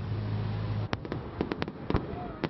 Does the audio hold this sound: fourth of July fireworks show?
yes